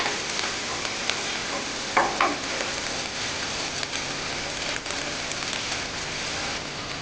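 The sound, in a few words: adding vegetables and chicken to sizzling pan for Alfredo pasta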